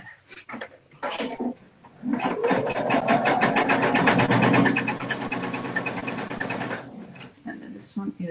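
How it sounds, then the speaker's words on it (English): A sewing machine stitches fabric pieces for rainbow woven placemats in a rapid, steady mechanical chatter lasting about five seconds, framed by people talking before and after. "I'm going to sew this to this."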